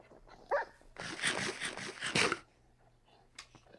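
Tamed wolves in Minecraft let out a short yip, then a dense burst of overlapping barking and whining lasting over a second, with a faint yelp at the end.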